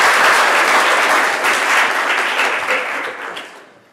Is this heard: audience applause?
yes